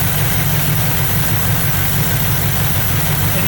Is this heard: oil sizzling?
no